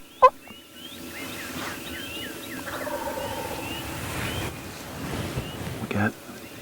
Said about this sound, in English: We got a big gobbler behind us, another big gobbler behind him, 3 or 4 more to our right behind us.